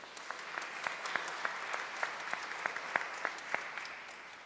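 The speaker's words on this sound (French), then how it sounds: "C'est très beau, on applaudit Samuel" A church congregation claps at Sunday Mass for a boy becoming an altar server. The applause is steady and moderately distant, with a few sharper individual claps standing out.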